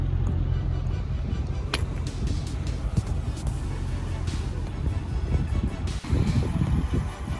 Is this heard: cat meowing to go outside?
no